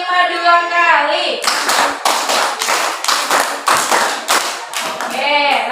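Pupils in a class clapping game repeat a five-clap pattern twice, producing a long run of crisp, loud group claps in steady rhythm, bracketed by an adult's spoken instructions.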